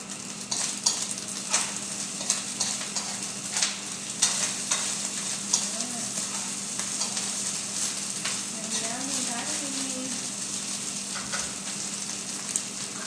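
Sinangag, Filipino garlic fried rice, stir-fried in a pan for breakfast: a continuous sizzle with repeated scraping strokes of a spatula, close and steady, with no talking.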